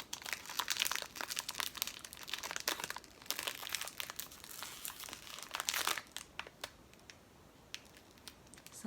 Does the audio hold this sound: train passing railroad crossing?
no